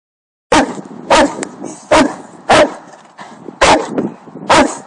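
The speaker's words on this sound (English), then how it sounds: "You barking at Simon?" A dog at a daycare and home-boarding kennel barks sharply and repeatedly, about seven loud, close barks in an irregular rhythm with short pauses, and nobody talking over them.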